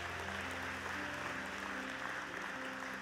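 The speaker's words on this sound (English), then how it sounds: "So one more round of applause." A church congregation applauds, a dense steady wash of clapping filling the room at moderate volume, with musical tones sustained beneath it.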